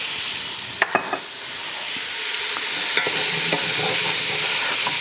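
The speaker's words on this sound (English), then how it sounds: "now we're going to add our garlic and our tomato paste. And we'll cook this off now for just a couple minutes." Garlic and tomato paste sizzle with vegetables in a pan for a chicken stew in wine, a steady frying hiss broken by a few sharp clicks and scrapes of stirring.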